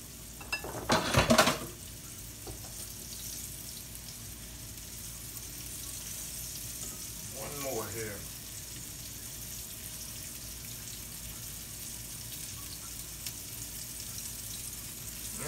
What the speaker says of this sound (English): Put it in the skillet. That's it, y'all. I'm gonna sear this off on both sides.